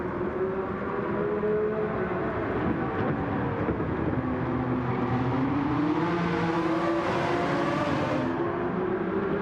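Racing cars, including a Jaguar XJR9, at Fuji in Gran Turismo 7, roaring continuously with overlapping engine whines that rise and shift pitch, steady and loud throughout.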